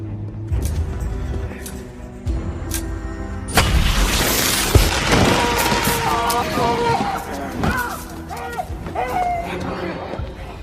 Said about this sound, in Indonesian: tak lama kemudian bomnya meledak